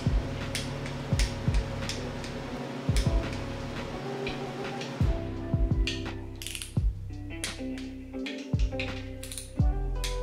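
A ratchet wrench tightens oil pump bolts on a Honda D16 turbo build engine, producing steady close clicking with periodic sharper metallic ticks and clinks over a constant background hum.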